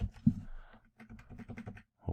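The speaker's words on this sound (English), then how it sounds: "Hopefully I'm typing that right." Keys on a computer keyboard are tapped in a short irregular burst as a password is entered, close and clear, with a brief pause mid-way before a few more keystrokes.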